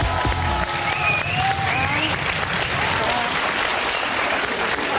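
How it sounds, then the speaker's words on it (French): A television studio audience applauds loudly and steadily, a dense wash of clapping with a few faint cheers, continuing throughout. "Je vous demande de faire un tonnerre d'applaudissements à Juliette Arnaud."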